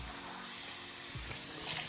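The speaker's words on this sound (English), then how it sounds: "Once you're done, wash it off with cold water." Tap water runs steadily into a sink while a face is rinsed with cold water, a soft continuous splash and hiss at close range with no talking.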